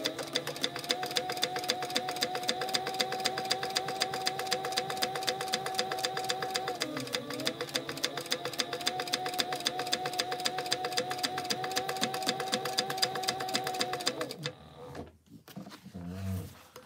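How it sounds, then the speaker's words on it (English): Sewing machine running steadily for about fourteen seconds while top stitching fabric with a 1/8 inch seam allowance, a fast continuous whirring hum that briefly dips midway, then stops and is followed by faint handling noises. "we're gonna top stitch the top. Here with 1/8 inch seam allowance."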